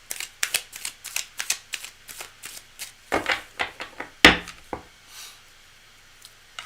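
A deck of cards is shuffled for a tarot-style reading, giving a run of quick, crisp riffling bursts up close, with a louder snap near the end before the sound trails off.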